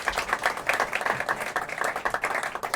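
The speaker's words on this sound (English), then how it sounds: "Big round of applause." A folk club audience in Leamington applauds a performer, a dense, steady wash of many hands clapping at close range, continuous and even throughout.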